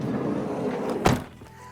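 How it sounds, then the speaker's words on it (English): The doors of a Siesta California camper van are shut, producing a single solid thunk in a quiet setting with faint background noise before and after. "make sure that the doors are both closed."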